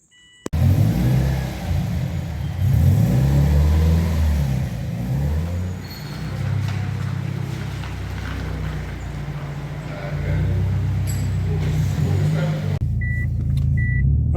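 A remapped JDM Subaru Impreza STI engine revs hard, rumbling and roaring as the car pulls away, then fades; brief voices are faintly audible amid the engine noise.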